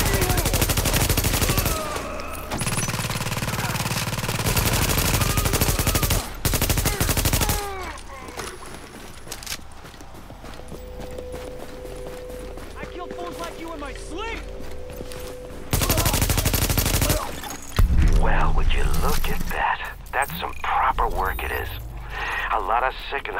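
Bursts of automatic gunfire in The Division, loud and dense in long stretches, broken by quieter spells where a voice speaks and other game sounds fill the gaps.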